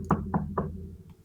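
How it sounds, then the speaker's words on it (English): Three firm knocks on a door in a steady, evenly spaced rhythm, close and clear, followed by quiet. "and would knock on his door."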